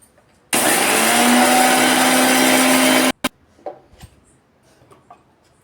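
A mixer grinder whirs loudly for about two and a half seconds as it grinds roasted cumin into fine powder, then stops abruptly, followed by a few soft clunks and handling sounds.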